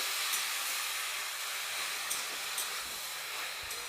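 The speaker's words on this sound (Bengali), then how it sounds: "শাকটা ভেজে নেব, শুকনো লঙ্কা ফোড়ন দিয়ে" Water spinach sizzles and hisses steadily in hot oil with dried red chilli, a loud, broad frying crackle holding throughout with faint pops and no voices.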